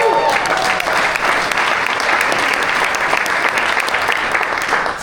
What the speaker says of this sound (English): you owe yourself a round of applause